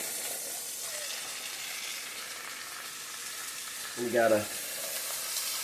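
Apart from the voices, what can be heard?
pot roast searing in a pan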